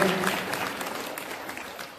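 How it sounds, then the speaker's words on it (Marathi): An audience at a felicitation ceremony claps to welcome a religious guest, a burst of dense applause that starts loud and slowly fades over two seconds, with a voice faintly mixed in. "टाळ्या वाजवून सगळ्यांनी त्यांचं स्वागत करूया"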